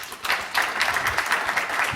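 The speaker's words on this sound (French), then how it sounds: "Vous pouvez l'applaudir." Brief applause from a seated audience at a poetry and visual arts authors' gathering, a short burst of scattered clapping that swells after a quiet start.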